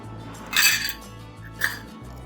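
Oil is mixed into banana cake batter in a bowl, producing a couple of short clinking scrapes of a utensil against the bowl over a steady low hum.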